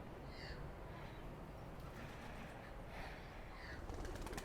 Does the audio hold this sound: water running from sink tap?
no